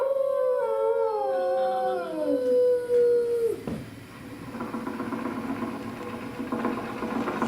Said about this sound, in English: Down, Rover